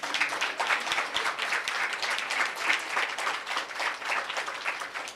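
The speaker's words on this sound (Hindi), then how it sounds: "ठंडा ठंडा ताली बजाते हैं।" An audience at a Brahma Kumaris gathering of teachers applauding, steady dense clapping from many hands sustained evenly from start to finish.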